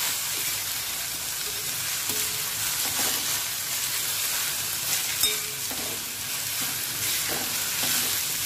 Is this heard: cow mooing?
no